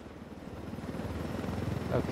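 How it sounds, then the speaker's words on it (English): Helicopter rotor chop from a chopper being flown in Ghost Recon Wildlands, a steady low rhythmic thumping and engine drone running throughout at moderate level, with someone talking over it. "I told Griffin I could figure out how to fly this thing. Qualify for planes. But not choppers"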